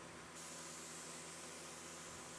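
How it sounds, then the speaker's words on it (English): A steady, close spray hisses without a break, a continuous airy rush of TotalBoat Amber Halcyon finish leaving a sprayer onto wooden bench seat slats. "After spraying a few coats on the bottom of the seat slats and the bench"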